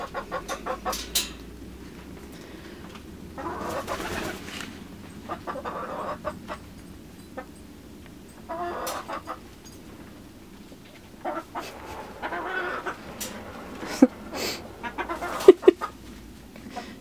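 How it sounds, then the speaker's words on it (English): Backyard chickens clucking close by, with a steady run of soft murmuring clucks and sharper squawks and bursts of several birds together, occasional louder calls near the end. "Chickens!"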